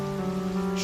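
Steady rain pattering beneath a sustained organ-like tone of a Christian hymn, soft and even throughout the brief moment.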